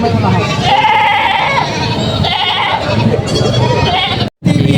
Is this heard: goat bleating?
yes